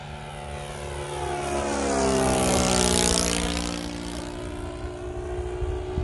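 A Great Planes JU-87 Stuka RC model plane flies past, its propeller engine droning steadily and swelling louder as it nears, then fading as it moves away.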